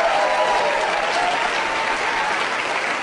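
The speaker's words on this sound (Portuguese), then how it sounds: "eu quero um grande aplauso para isso." A church audience bursts into loud, dense applause, a steady roar of clapping that fills the whole moment.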